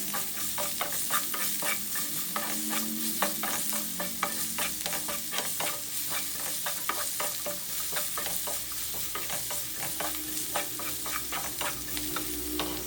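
Broccoli and mixed vegetables being stir-fried with salt in a pan, a continuous loud sizzle punctuated by rapid rhythmic scrapes and taps of a spatula mixing throughout.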